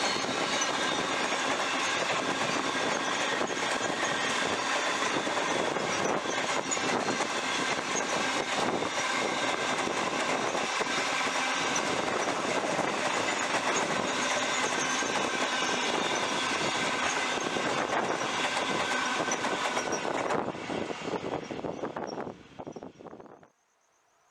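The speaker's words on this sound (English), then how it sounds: "Townsville to Giru Creek empty cattle train" Empty cattle train in Queensland, running from Townsville to Giru Creek, passes close by in a steady, loud roar of wagons and engine noise that holds for about twenty seconds before fading quickly away.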